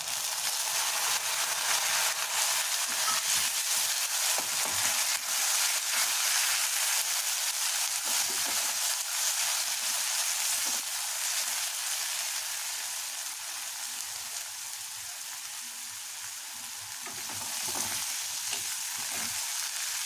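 Tomato paste frying with onions in hot oil for a tangra fish curry, a steady, dense sizzle and hiss that runs evenly throughout, easing slightly near the end before swelling again, with no voices.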